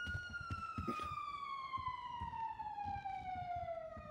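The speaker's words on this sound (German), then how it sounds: "Wissen Sie, warum diese Sirenen hier in der Stadt so laut sind und ständig fahren?" Emergency vehicle siren wailing through a city street, one long steady tone sliding slowly downward, heard at a distance over low rumbling traffic, with no talk.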